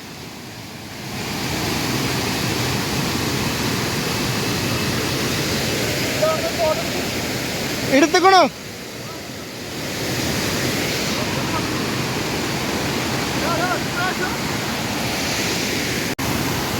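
Strong rushing water along a rain-soaked forest road in Nelliyampathy, a steady broadband roar filling the whole stretch, with a brief spoken question cutting through partway.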